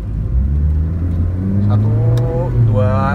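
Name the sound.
2003 Honda Fit 1.5 VTEC engine revving through gear shifts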